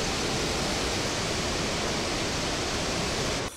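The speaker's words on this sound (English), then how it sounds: "Kiteur Falls is the world's largest single-drop waterfall by volume." A thick, constant roar of falling water from Kaieteur Falls in Guyana, a huge single-drop waterfall, loud and unbroken, cutting off abruptly at the very end.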